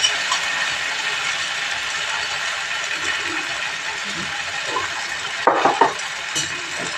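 Eggs fry in a pan with tomato ketchup and salt, a soft steady sizzle under light stirring, then a brief burst of clattering spatula scrapes near the end; no one speaks.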